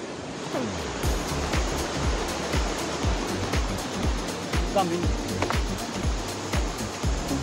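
A mountain river below Tsho Rolpa Lake in Nepal rushes steadily nearby, a continuous loud roar of churning water, with a few brief voices and knocks now and then.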